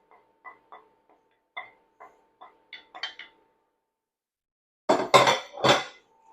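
Series of light metallic taps and clinks of a utensil chopping eggs in a skillet for beef stir fry, quiet and spaced out, then a few louder scraping clatters near the end.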